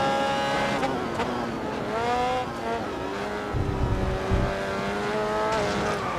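An open-wheel race car in Grid Autosport brakes into a hairpin, its engine pitch sweeping down and back up through the gears, with brief tire scrubbing on the exit.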